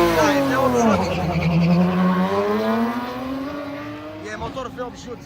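A V8-engined Carlson hill climb race car roars past at a mountain hill climb race in Sinaia, its loud engine note falling in pitch as it nears and passes, with people talking nearby.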